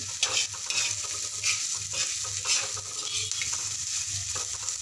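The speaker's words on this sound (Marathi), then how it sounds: "थोडं असं तेल सुटेपर्यंत छान मस्त खरपूस असं भाजून घ्यायचं आहे।" Todas masala stir-fries in oil, a steady close sizzle broken by repeated scraping stirs of a spoon against the pan.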